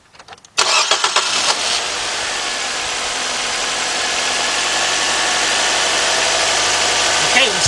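2013 Nissan Sentra 1.8 with a cylinder 1 misfire cranks and starts after a quiet moment, then settles into a loud, close, rough idle that runs on steadily.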